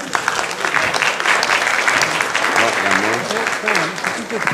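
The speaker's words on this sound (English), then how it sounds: "Come on, let's clap" An audience at a lecture on alien contact applauds steadily and loudly throughout, a dense wash of many hands with a voice briefly rising over it near the end.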